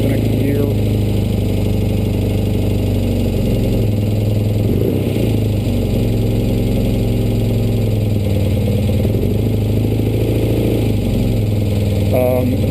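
A 1973 BMW R75/5 motorcycle idles indoors after a cold start, a loud, steady, close engine drone with slight unevenness. Someone talks over it throughout.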